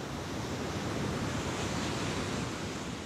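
Wind and ocean waves on a Hawaiian shore: a steady, dense roar of surf mixed with gusting wind, continuous and fairly loud throughout with no voices.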